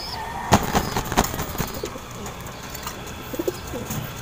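Pigeons leaving a loft: sharp wing claps and flutters up close, then soft low cooing and a few chirps, all under a steady background hum.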